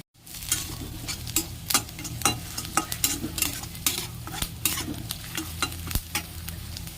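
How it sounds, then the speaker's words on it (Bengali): Onions fry with ginger-garlic paste in a pan, a steady close sizzle broken by regular scraping stirs of a spoon against the pan, with no voices. "পেঁয়াজটা যেই ভাজা ভাজা হয়ে যাবে এতে অ্যাড করে দেবো 1 চামচ আদা রসুন"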